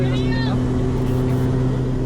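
Twin Pratt & Whitney turbine engines, each making about 1,200 foot-pounds of torque, spool up on a Cessna with a loud, steady, close droning hum of layered low tones, continuous throughout, with brief faint chirps near the start.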